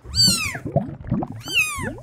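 A cat in a Minecraft game meows twice, clear and close, with softer chirping cat sounds between the two loud calls.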